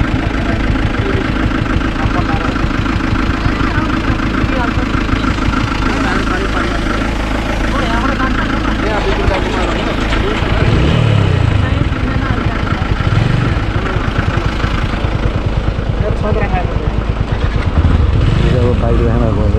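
A motorcycle engine runs steadily and close along the Annapurna Base Camp trekking route in Nepal, a loud continuous throbbing drone for the whole stretch with people talking over it.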